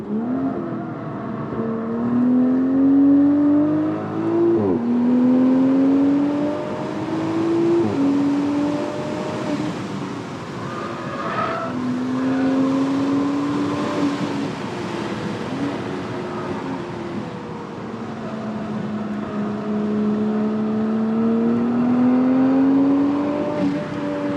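A 2022 Toyota GR Supra with an automatic gearbox laps a race track, its engine droning steadily and rising and falling in pitch through repeated gear changes and corner exits, loud and close with no talking.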